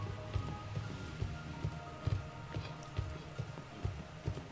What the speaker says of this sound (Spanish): No, está lloviendo allí.